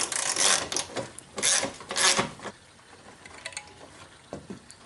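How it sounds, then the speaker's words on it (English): A 12mm socket wrench turning to unbolt the horns on a 2002 Toyota Camry, giving close ratcheting and rasping bursts that come in a few strokes early on, then trail off into quieter scrapes and handling. "Unbolt the horns with a 12mm socket."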